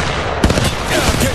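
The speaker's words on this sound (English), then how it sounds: "Getting shot at." Gunfire in the mobile battle royale game Apex Legends Mobile, a burst of shots and impacts starting partway through and continuing in a busy, dense clatter.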